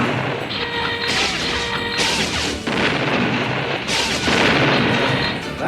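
Cartoon gunfire rings out during target practice, a dense run of loud crashing shots and booms with mechanical clatter, continuous and close with no pauses.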